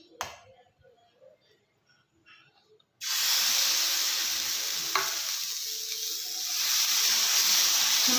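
Oil and rava uttapam batter hit a hot pan after a few quiet seconds, bursting into a loud, steady hiss-sizzle that keeps going to the end.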